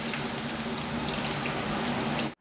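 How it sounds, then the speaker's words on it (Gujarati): Chana dal sizzles as it fries in hot oil and is stirred, a loud, steady crackling hiss that carries on evenly before cutting off abruptly at the end. "આ રીતે બીજી દાળને પણ આપણે તળી લઈશું।"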